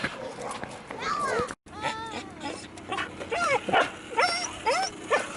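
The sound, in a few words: dog barking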